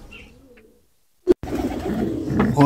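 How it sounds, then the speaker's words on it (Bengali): Domestic pigeons in a loft, near a nest with eggs, give a soft, brief coo lasting under a second, then a sharp knock breaks in and steady rustling handling noise follows. "এই জায়গায় কিছু কবুতর আছে"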